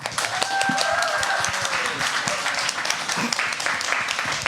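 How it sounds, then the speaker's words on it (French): Live audience at a French team event applauds the two newly chosen team captains, steady fairly loud clapping throughout with a few voices calling out over it. "on les applaudit bien fort"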